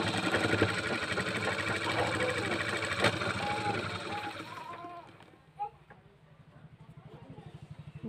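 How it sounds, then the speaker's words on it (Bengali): A household sewing machine stitches a blouse with a steady, close mechanical whir, under background chatter and household noise; the run slows and breaks off partway through, followed by quieter clicks. "এই দেখো আমি সেলাই করছি"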